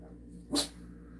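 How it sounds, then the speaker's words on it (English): A neighbor's dog gives a single short bark at a distance, faint and alone against a quiet indoor background. "It's my neighbor's idiot dog that barks at everything."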